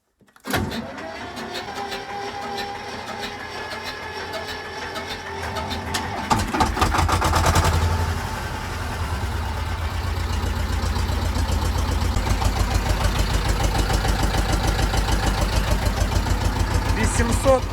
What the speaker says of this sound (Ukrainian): давайте я покажу, як тракторець мій заводиться після сутки простою